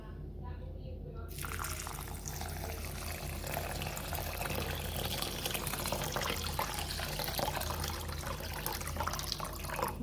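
Water poured into a bowl, a faint running trickle and splashing under a low hum, with a person talking over it throughout.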